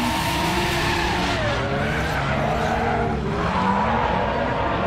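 A drift car slides through a course with continuous loud tire squeal and a wavering, revving engine, sustained without break for the whole stretch.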